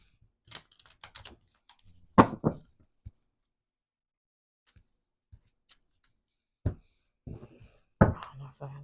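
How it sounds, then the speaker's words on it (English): Tarot cards being shuffled by hand, a few bursts of riffling and snapping with quiet pauses between, close and moderately loud, with a voice speaking briefly in places. "let me just do a couple shuffles"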